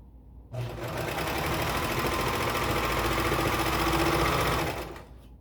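Sewing machine running steadily as it stitches the shoulder seams of a lined tank dress, right sides together; a continuous close mechanical whir lasting about four seconds, starting and stopping abruptly, with no talk.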